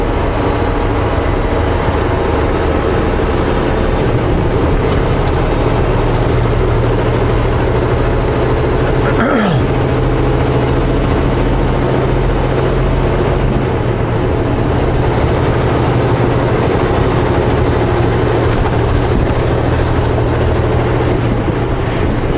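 Heavy traffic on a four-lane road southbound through Quesnel, a loud continuous roar of engines and tire noise heard from inside a moving vehicle, with one louder whoosh of a truck passing close by partway through.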